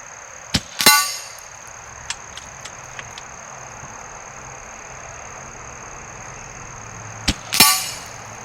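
Shots from an Umarex Fusion 2 air rifle strike a metal pig target, producing two sharp ringing clangs several seconds apart, each with a brief metallic decay, plus a few faint clicks between them and no talking.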